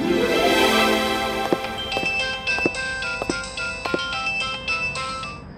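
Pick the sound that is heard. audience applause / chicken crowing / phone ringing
phone ringing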